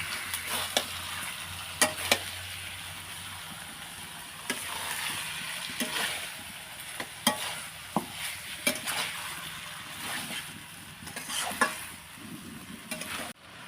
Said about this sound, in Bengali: এই মাংসটা দিয়ে দিলাম তো ভালো করে।